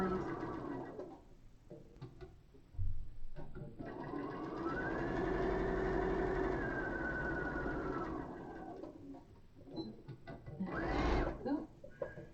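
A sewing machine stitches a puff quilt block in bursts, a whirring mechanical run of several seconds with shorter runs before and after, while a person talks over and between them.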